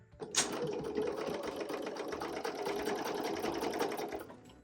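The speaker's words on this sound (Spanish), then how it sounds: "nos vamos a la máquina. Vamos a empezar a coser." Sewing machine stitching two pieces of fabric placed right side to right side, a continuous fast mechanical chatter that starts abruptly and runs steadily and close by, with no talking.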